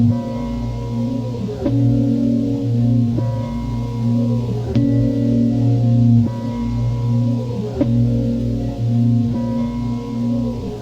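A dark, organic sample processed with a pitch shifter, RC20 tape-vinyl coloring and heavy compression, playing a low, droning harmonic loop with repeating phrases and a warm, slightly muffled tone, no voices.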